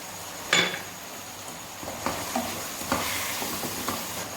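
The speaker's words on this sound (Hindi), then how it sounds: "अब इसको हम ज़रा भून लेते हैं" Chicken being browned and stirred in a cooking pot, a soft continuous sizzle with a few distinct spoon knocks and scrapes against the metal, close and fairly quiet, no talking.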